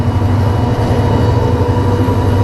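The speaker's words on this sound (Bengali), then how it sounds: "এই টাইমে ট্রেন যাচ্ছে" A train rolls past at close range on a winter morning in Bangladesh, making a loud, steady low rumble that fills the whole stretch without any speech.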